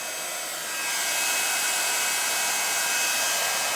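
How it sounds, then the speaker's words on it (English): A heat gun used for embossing on a papercraft stamping project blows a loud, continuous roaring hiss that swells slightly in the first second and then holds steady, heard alone. "And then just start embossing and heat it up and then work your way round."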